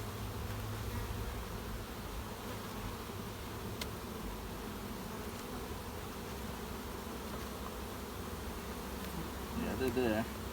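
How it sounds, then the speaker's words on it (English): A steady, dense hum of many honey bees buzzing in a hive during a honey harvest, constant and close, with no talking. "We still have some bees here."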